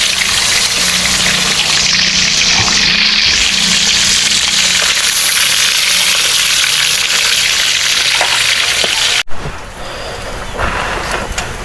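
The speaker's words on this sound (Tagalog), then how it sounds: "tapos na akong magprito" Food crackles and sizzles steadily in a frying pan in a rural kitchen during rainfall, a loud, continuous hiss that cuts off near the end, leaving a quieter background with a faint rustle.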